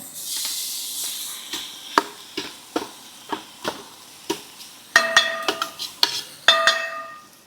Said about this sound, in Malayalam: രാത്രി കുഴച്ച് വെച്ച മാങ്ങ ഇട്ട് കൊടുക്കട്ടോ.